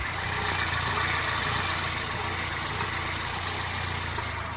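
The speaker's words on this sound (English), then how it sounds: "So the engine sounds like it's smooth as long as I'm running the wheel back and forth." A 1999 Toyota Corolla with a 1.8 engine idles in a steady, even drone with no clear knock, heard alone at close range for a few seconds.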